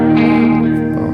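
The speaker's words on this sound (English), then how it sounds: "when you come to the chorus, that's when the distortion kicks in" Electric guitar driven through a distortion effect, a thick sustained chord ringing loud with rich overtones and slight echo, played alone.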